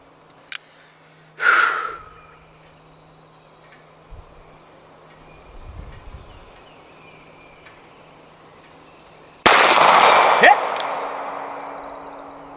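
A small belly gun fired at a target while standing, with one loud sharp report late in the clip and a fainter crack earlier, set against quiet outdoor insect chirping and brief breathing.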